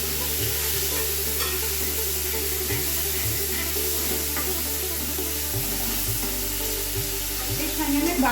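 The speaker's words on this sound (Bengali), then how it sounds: "এবার আমি আদা, রসুন আর টমেটো বাটা দিয়ে দিলাম।" Ginger, garlic and tomato paste fry with spices in a hot pan, a loud continuous sizzle and spray-like hiss with occasional stirring knocks, close and unbroken, no one talking.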